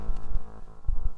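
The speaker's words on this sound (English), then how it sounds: "And the LFO sounds like this." A Moog Mavis synthesizer's LFO, below audio rate, pulses a low tone in slow, deep throbs, a humming drone swelling and fading at a steady low rate.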